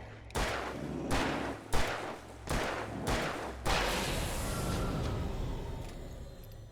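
Five sharp, loud gunshots ring out in Alan Wake Remastered, spaced roughly evenly in quick succession, each with a bright crack and short tail, followed by a lingering low ambient hum as the echoes fade.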